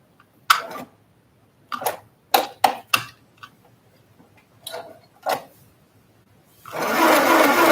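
A sewing machine runs in short bursts while back-stitching, several quick whirring runs with pauses between, followed by a longer continuous stretch of stitching, close and clear.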